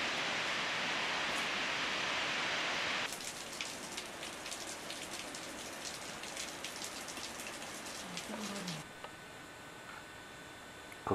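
Water runs and drips from an overhang in an Australian rainforest near the Three Sisters, first a dense rushing patter, then a thinner scatter of drips and splashes, close and with no talking.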